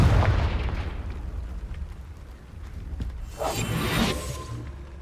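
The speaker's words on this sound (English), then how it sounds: "Confringo." Confringo explosion spell in the Hogwarts Legacy video game, a deep booming blast up front that fades, followed by a bright crackling burst and whoosh a few seconds later.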